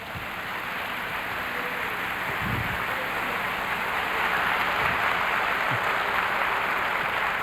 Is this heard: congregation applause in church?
yes